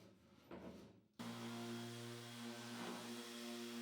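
A power tool works a wooden picture frame, starting with a faint rub and then switching to a loud, steady motor whine that holds at a constant pitch. No one talks.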